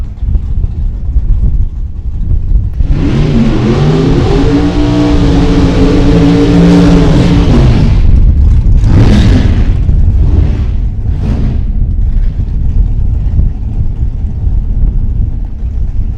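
Drag racing cars, a Chevy Cobalt and a Ford Mustang, rev loudly and roar off the line with a rising, sustained engine drone, followed by several sharp bursts and pops as the run fades into crowd and ambient noise.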